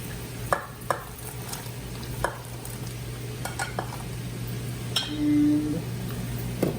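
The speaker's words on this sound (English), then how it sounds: "my water is boiling really good now, so I'm going to put about half of these in here" Turnip chunks drop into a pot of boiling water on a kitchen stove, a few sharp clinks and splashes over a steady low hum, followed by a brief bubbling burst.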